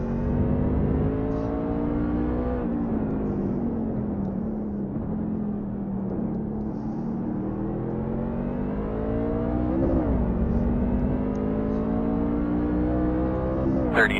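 Racing trucks roar around Circuit of the Americas in a racing game, engines droning steadily at high revs with pitch rising and dipping through gear changes, loud and continuous for the whole stretch.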